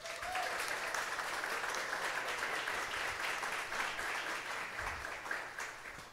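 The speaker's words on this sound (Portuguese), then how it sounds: "Pode aplaudir." A church congregation applauds during a sermon, giving dense, continuous clapping that stays loud and steady for several seconds with no speech over it.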